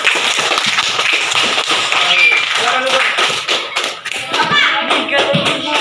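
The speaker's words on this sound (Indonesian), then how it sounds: "Ya, terima kasih kepada Ananda. Tepuk tangan dulu" Children clap together in a classroom, a burst of quick overlapping hand claps that fades as an adult voice speaks briefly near the end.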